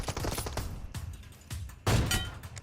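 Rapid gunfire in a shooter video game, loud bursts of shots that come in several quick clusters, each cracking out close and sharp.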